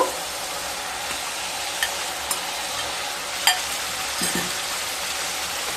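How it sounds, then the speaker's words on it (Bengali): Pre-fried pointed gourd is stir-fried with spice paste in a pan: a loud, constant sizzle, broken by a few sharp spatula clicks and scrapes against the pan, with no talking. "ভেজে রাখা পটল দিয়ে আবারও মশলার সাথে এক থেকে দেড় মিনিট ভালোভাবে কষিয়ে নেব"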